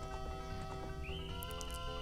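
Haflinger horse in a Zelda video game, giving a synthetic neigh or whinny with a sustained tonal line over steady game music and faint clip-clop hoof sounds.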